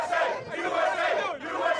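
A crowd of supporters cheers and shouts for Trump at Tony and Nick's cheesesteak shop, a loud, continuous wall of massed voices that swells and dips briefly before rising again.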